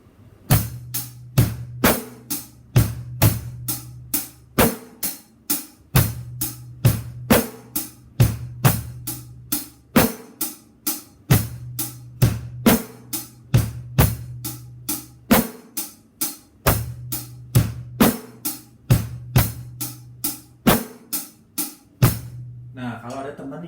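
A blues drum beat on a kit, a steady groove of kick and snare strikes with cymbal hits, played alone and evenly for about twenty seconds before stopping.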